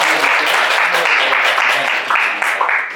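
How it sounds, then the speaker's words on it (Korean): An audience at a Korean forum session on greenhouse gas reduction applauds its panelists, with sustained clapping from a crowd that keeps going at an even level and fades slightly near the end. "감사의 박수 좀 부탁드리고요."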